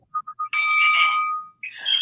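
A mobile phone ringtone plays loud and close: three short chirps followed by a sustained bright electronic tone, then another rising tone after a brief gap.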